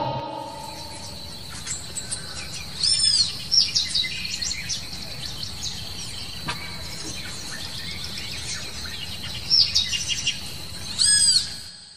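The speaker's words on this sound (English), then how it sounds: "P for parrot" Bright bird chirps and whistling calls, parrot-like, repeat in short bursts over a constant insect buzz, louder clusters near the start and the end of the stretch.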